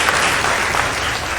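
An audience at a secondary-school debate contest applauds the winning team, a dense, fairly loud burst of clapping with no voice over it.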